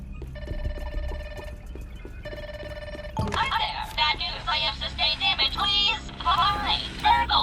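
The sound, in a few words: telephone ringing in the video game Ground 2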